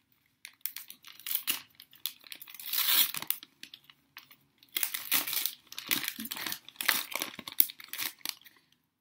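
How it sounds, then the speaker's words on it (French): Gift wrapping paper crinkled and torn while a present is unwrapped, in close, loud bursts of rustling separated by brief pauses. "Le papier cadeau dans un paquet cadeau."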